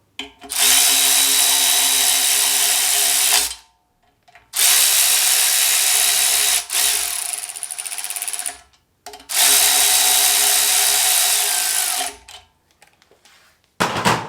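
A power ratchet tightens bolts on a K20 engine oil pump in loud, close bursts of whirring and clicking, three long runs separated by brief pauses.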